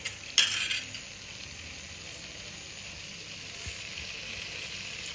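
A spoon stirs and mixes food in a pan for a chapathi veg roll, with one sharp clatter near the start followed by a steady soft sizzle and scraping.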